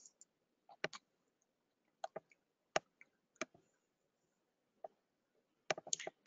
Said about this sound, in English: I'm going to navigate back to my main menu here and click on companies.